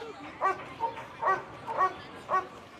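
Police drug-detection dog barking in short woofs, five evenly spaced barks close by, moderately loud over faint background.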